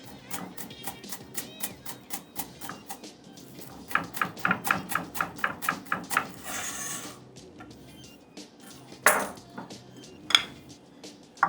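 A knife chops green onions on a cutting board in quick, evenly spaced strokes close by, pausing briefly before a few heavier single chops.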